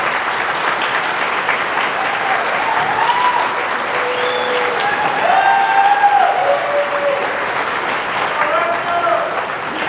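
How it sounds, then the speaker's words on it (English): Sustained applause from a graduation ceremony audience, dense clapping that swells slightly midway, with scattered voices and whoops carrying over it. "please give these folks a round of applause."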